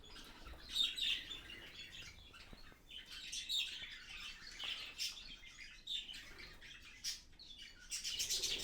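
Quail and other birds in an outdoor aviary, with faint scattered chirps and tweets and occasional wing flutters at a distance, no talking.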